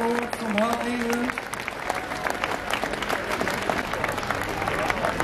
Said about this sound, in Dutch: Applaus voor Raymond van Hart Nederland.